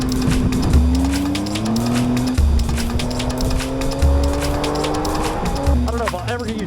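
A 2018 Triumph Tiger XCA motorcycle rides through Los Angeles traffic, its engine note climbing and dropping through repeated gear changes, loud and close against steady wind and road roar.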